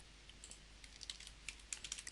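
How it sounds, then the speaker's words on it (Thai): Clicky taps on a computer keyboard as Ctrl+P is pressed, a few soft scattered keystrokes over faint room hiss, with no talking. "Ctrl บวก P บน คีย์บอร์ดนะครับ Ctrl P กด Ctrl P"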